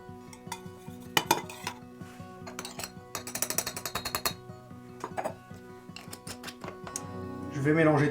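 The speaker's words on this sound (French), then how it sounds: "Je vais mélanger tout ça pour que tout se marie bien" A spoon stirs a homemade elderflower liqueur mixture in a container with a run of rapid scraping clinks in the middle, close and clear, while a voice talks over it.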